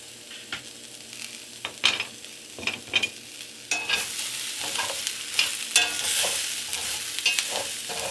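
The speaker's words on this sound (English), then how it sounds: "We're going to stir up our veggies." Vegetables are being stirred in a skillet just after the meat has come out, with spatula scrapes and clacks falling irregularly over a soft, continuous sizzle at moderate loudness, and no voices.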